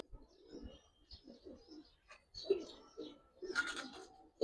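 Giribaz pigeons coo in a series of soft, low throaty calls at close range, with a few sharper bird sounds and brief voices over them.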